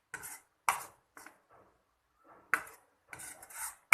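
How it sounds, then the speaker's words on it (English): A spoon stirs onion and tomato sambar with masala in a pot, producing a series of short scraping and clinking strokes in an irregular rhythm, close and fairly quiet with no talking. "After adding masala, mix it well"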